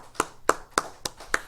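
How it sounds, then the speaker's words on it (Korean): Church congregation clapping together in worship, five sharp, evenly spaced claps in unison, fairly quiet and without talk. "우리 다 같이 하나님께 박수로 영광 돌려드립니다"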